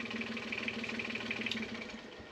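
A boat engine idles in gear without throttle on the Trinidad during yard work, a faint, steady, slightly pulsing hum with a rhythmic mechanical knock running throughout.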